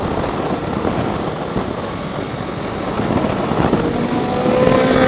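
A touring motorcycle cruises along a highway, its engine drone buried under steady, loud wind roar that swells slightly toward the end, with no voices.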